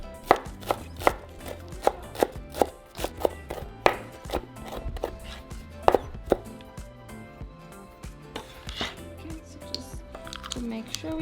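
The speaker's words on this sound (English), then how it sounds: "first we're going to start by chopping our parsley" A knife chops in brisk irregular strokes on a cutting board, each chop a sharp close thud, with the pace loosening toward the end.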